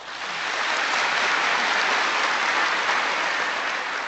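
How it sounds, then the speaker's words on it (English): A large audience gives Richard Moore a steady, thunderous round of applause, a dense wash of clapping that swells in and holds evenly with no talk over it. "Please welcome him with a thunderous applause."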